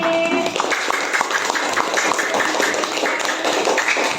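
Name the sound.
classroom applause for a pupil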